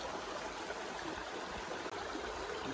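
A river rushes steadily on a humid, rainy day in Maine, a broad continuous hiss of flowing water, close and even throughout with no voices.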